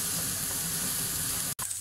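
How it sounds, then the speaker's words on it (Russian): Chopped onion hits hot sunflower oil in a skillet on a gas stove while making goulash, producing a brief, even close sizzle that cuts out abruptly for a moment near the end. "Отправляю лук на сковороду в раскаленное масло"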